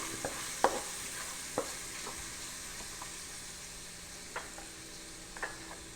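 Onion and garlic sauté in a pan for a countryside pork nilaga, with a steady low sizzle and a few sharp clicks of a spoon stirring against the pan, close by and with no talk.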